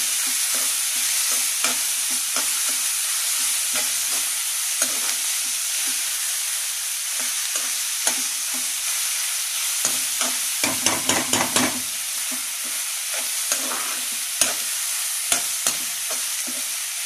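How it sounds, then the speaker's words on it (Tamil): Ingredients sautéing in a pan until golden for idiyappam: a constant loud sizzle broken by repeated scraping and tapping strokes of a spatula, with a quick flurry of stirring partway through. "நல்லா பொன்னிறமாக வதங்கவும்"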